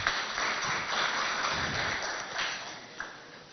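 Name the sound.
audience applauding the dancers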